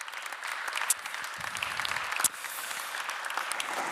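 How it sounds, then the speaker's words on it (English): Moderate applause from a conference audience on EU energy supply, steady clapping throughout for a departing panelist, with a couple of sharp isolated claps standing out. "So we take an applaud also for one of our panelists while she is leaving"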